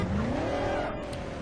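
A car driving with tires skidding in the video game Crackdown, a rising engine whine sweeping upward over a rough tire squeal, loud and close, then easing off.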